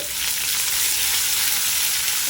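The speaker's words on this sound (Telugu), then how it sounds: "కొద్దిగా ఉల్లిపాయను వేసి వేయించుకోండి" Sliced onion frying in a pan for the tempering of a Kadapa-style brinjal and okra sour curry gives a steady, dense sizzle with no pauses and no voices.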